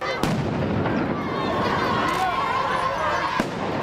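Sharp firecracker bangs burst out a couple of times over a noisy crowd of protesters clashing with police, with a lingering crackle and a high whistling tone between blasts.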